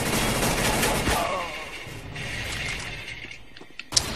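Gunfire in Counter-Strike: Global Offensive on Xbox 360 comes as a loud, dense burst of rapid shots for about a second, then trails off into a softer rumbling tail, with a sharp click near the end.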